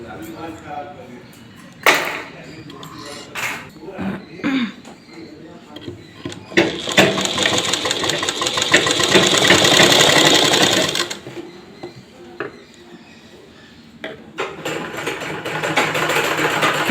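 A sewing machine stitches a ladies' pant pocket in one sustained run of several seconds, between clicks and handling noises, with a voice talking at times.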